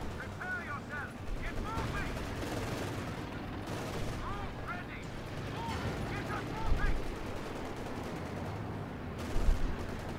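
Gunfire in a Company of Heroes 2 4v4 battle, with sustained bursts of rifle and machine-gun fire crackling throughout, heavier thumps now and then, and players talking over the battle.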